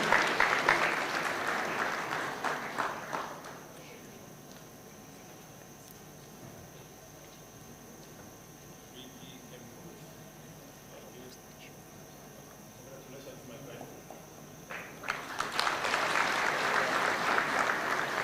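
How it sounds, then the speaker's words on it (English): Loud applause from an audience at a taxpayer's day award ceremony at the start, dying down to a quiet room with faint murmurs, then a fresh burst of clapping swells near the end. "A round of applause kindly."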